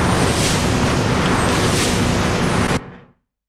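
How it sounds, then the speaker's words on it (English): A raw recording of wind turbines gives a loud, dense, steady rushing roar with faint slow swells, continuing unbroken for nearly three seconds before cutting off abruptly. "This is the wind turbines that I have heavily processed with"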